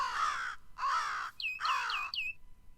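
Bird calls from the Animals+ mod in Minecraft: three loud, harsh crow-like caws in quick succession, overlapped by a few short rising chirps near the end, with no talking.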